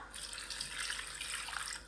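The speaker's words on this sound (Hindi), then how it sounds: "1 किलो मैंने पानी इसमें ऐड किया है" Water pours steadily into a pot of rice for pulao, a continuous close splashing and trickling stream at moderate loudness with no voices.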